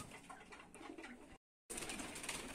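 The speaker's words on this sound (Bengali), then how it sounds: "এই যে কবুতরগুলা বার হচ্ছে" Pigeons emerging from their loft coo and rustle faintly at a distance, the quiet bird sounds broken by a short gap of total silence before resuming.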